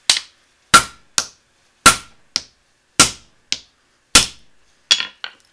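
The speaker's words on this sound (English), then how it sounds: "Now we got a 3-pound cross peen hammer that I picked up the other day." A 3-pound cross peen hammer strikes a 1095 steel 6-inch wabocho knife in a series of about ten sharp, loud metallic impacts at an uneven rhythm, each ringing briefly before decaying, with no talking.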